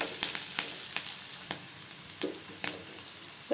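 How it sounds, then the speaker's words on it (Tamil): Small onions sautéing in a pan for sundakkai koottu: a steady sizzle runs throughout, broken by several sharp clicks and scrapes of a spoon against the pan, with no talking. "வெங்காயம் நல்லா வதங்கட்டுங்க, அது வரைக்கும் விட்டுக்கலாம்."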